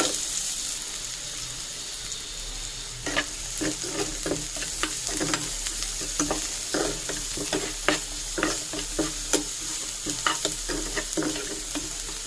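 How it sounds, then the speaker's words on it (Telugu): Onions, green chillies and curry leaves frying with a little salt for a prawn curry, a constant sizzle that turns busy after a few seconds with rapid, repeated spatula scraping and clinking, close and lively. "అలాగే ఒక 3 పచ్చిమిర్చి, కొద్దిగా కరివేపాకు అయితే వేసుకొని ఫ్రై చేసుకోవాలి."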